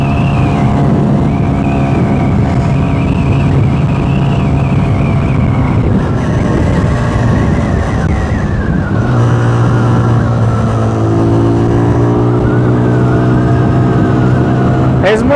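A Benelli 180S motorcycle engine revs on a test ride, its tone sweeping up and down in loud, sustained waves that climb toward high revs and shift pitch several times.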